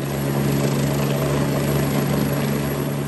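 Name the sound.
AgustaWestland 109 helicopter taking off from a Philippine Navy ship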